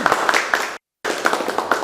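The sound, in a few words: applause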